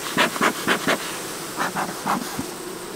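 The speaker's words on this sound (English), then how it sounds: "Halfway decent bit of bees." Honey bees in an opened summer hive with a shrunken colony buzz close by in a run of short, rhythmic swells, each rising and fading, with no voices present.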